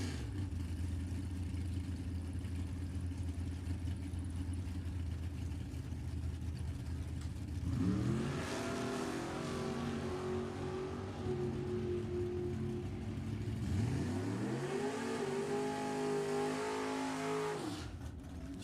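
Nostalgia drag racing cars at an NHRA Heritage Series event, a continuous loud engine roar from the strip with two clear rising pitch sweeps as engines rev up and launch, heard from some distance without talk.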